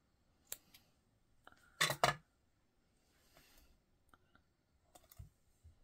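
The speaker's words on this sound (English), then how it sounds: "grab some tear tape and just put, we're going to cut some pieces and stick it on the back here" Scissors snip through small pieces of tear tape for a paper craft project: a few faint clicks, then a quick pair of close, crisp cuts, with light handling taps after in a quiet room.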